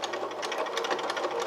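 A sewing machine stitches a straight seam in a steady, fast, even whirr of needle strokes, close and moderately loud, with no voices.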